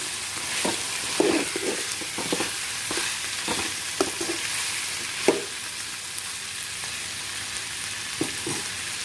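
Ridge gourd curry cooking in a pan on a low-medium flame: a steady soft sizzle with intermittent scraping and tapping of a stirring utensil against the pan, close and moderate, no talking.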